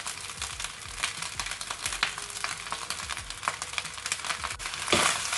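Fried rice with leftover chicken and dark soy sauce being stirred in a hot pan, a steady close sizzle with repeated scraping strokes of a utensil, building slightly louder near the end.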